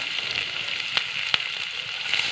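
Chopped garlic and green chilies fry in hot white oil in a wok, giving a steady, bright sizzle with a few sharp pops and crackles standing out.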